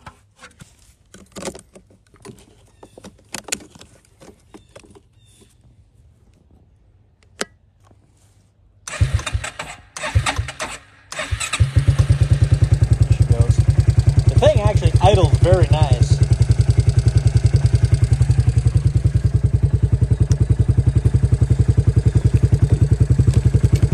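A Suzuki KingQuad 300 ATV with a weak battery is handled quietly with clicks and voices, then cranks in short bursts before firing up into a loud, steady, close idle that runs to the end.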